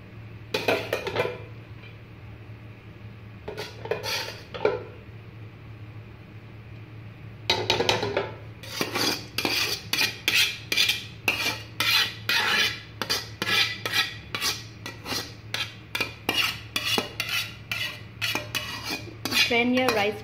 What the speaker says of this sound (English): Then we're going to add the remaining rice.